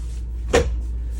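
A drawer in the bathroom of a 2019 Renegade Valencia 38BB RV makes a single short, sharp thud over a low steady hum, then goes quiet.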